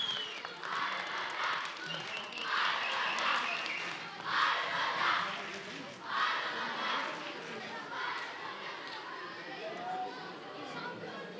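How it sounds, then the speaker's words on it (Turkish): Crowd cheering and applauding second-place winners at a quiz competition award ceremony, a busy mass of voices and clapping that swells and fades in waves, somewhat distant. "İkincimizi hep birlikte kuvvetli bir şekilde alkışlayalım arkadaşlar."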